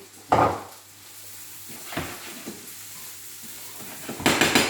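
Pumpkin dropped into a hot pan for a vegan pumpkin barley risotto, giving a sharp sizzling burst, then a quieter stretch of stirring and scraping before a louder crackling surge near the end.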